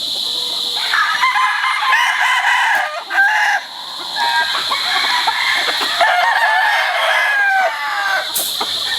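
Broodstock roosters and hens fill a farm yard with loud, close crowing and clucking, several birds calling over one another almost without pause.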